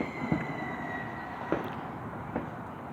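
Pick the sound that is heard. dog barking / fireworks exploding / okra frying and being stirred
fireworks exploding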